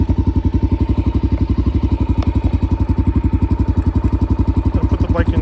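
A motorcycle engine idles in neutral with a steady, rapid, even chugging pulse, loud and close for the whole stretch, with a faint clatter in the background.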